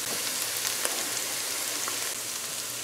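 Eggplant with eddo and shrimp frying in a pan, giving a steady, dense sizzle with faint crackles throughout and no voices.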